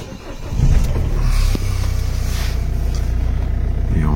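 A Citroën C4 Grand Picasso with a faulty ventilation system starts up, the starter catching within the first second before the engine settles into a steady, close idle rumble, with no talking.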